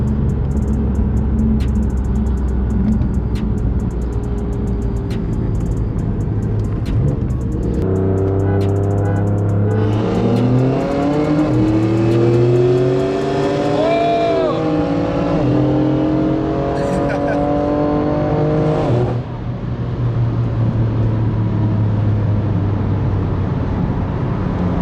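High-powered ethanol- and methanol-fuelled cars, including an F80 BMW M3 drag build, rumble loudly at idle before one revs up steadily for several seconds and settles back to a deep idle.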